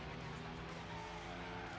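A compact race car in the Gran Turismo 4 driving game understeers through a corner, its tires squealing over a steady, loud engine drone that runs unbroken and close throughout.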